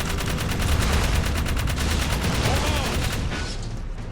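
Rapid automatic gunfire from the player's weapon in Jak 3, a loud sustained stream of evenly spaced shots lasting several seconds before cutting off.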